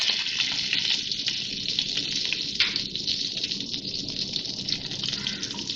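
Cumin seeds, one tablespoon, sizzle steadily in a little hot oil in a kadhai, a continuous close hiss and crackle with no talking.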